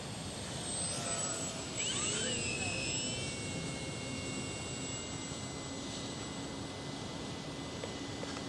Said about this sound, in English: Lovely sounding motor, isn't it?